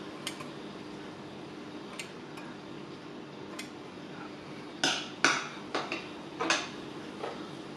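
Scissors trim a patch of Java moss in a quiet room, with a few faint clicks early on and then a cluster of crisp, close snips near the end.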